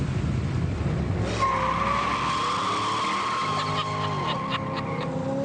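A car brakes hard with a long tire squeal and skid, loud and close, the screech sliding and wavering for several seconds over engine rumble, with no talk.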